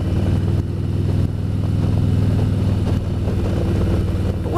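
A motorcycle rides along a highway, its engine droning steadily with a low rumble and slight shifts in tone, heard up close and continuous without talk.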